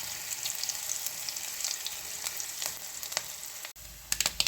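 Steady, crackling sizzle of mustard seeds and dried red chillies popping in hot oil, with sharp bursts of spattering near the end; no voices.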